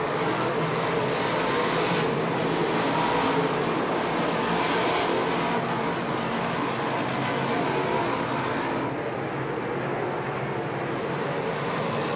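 Race cars circling in a modified stock car race, a continuous engine roar that swells and recedes as the pack passes, heard from a distance with no voices.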